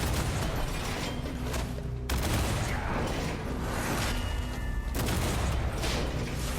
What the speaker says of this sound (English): the bombards are working well